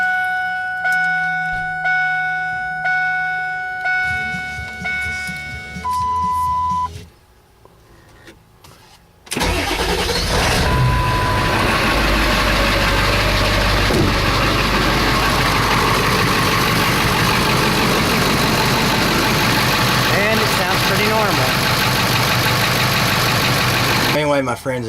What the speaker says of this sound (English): Glow plug's relay doesn't work right now at this time, so there's going to be a little excessive cranking